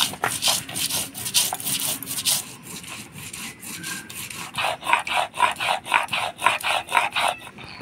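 Ginger, coriander and cumin ground together on a grinding stone, a rhythmic back-and-forth rasping scrape repeated in quick strokes, close and moderately loud with no voices.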